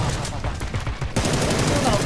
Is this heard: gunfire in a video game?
yes